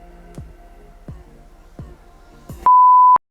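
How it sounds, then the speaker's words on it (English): A phone notification sounds as a single loud, steady electronic beep lasting about half a second, following a few soft low thumps, close by and with no talking. "Who texted me?"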